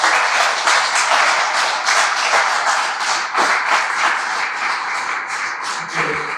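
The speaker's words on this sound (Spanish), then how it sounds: "¿Por qué me da un aplauso a Dios?" A church congregation applauds during a Spanish-language sermon, a dense, even wash of many hands clapping that fills the room from start to finish with no voices over it.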